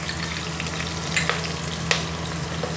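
Green chilies fry in a pan for a dal dhokli dish, a constant near crackling sizzle with a low steady hum and a couple of sharp spatula taps, no talking.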